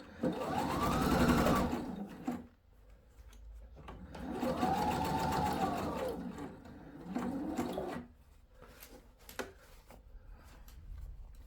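Sewing machine stitching sailor hat pieces together, motor whirring in bursts of a few seconds with pauses between, close and steady, ending in short clicks and handling noises.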